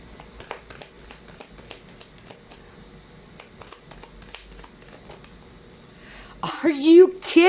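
Tarot cards are shuffled by hand in quick, crisp riffles and light taps for several seconds, close and clear, before a person starts talking loudly over the last moments.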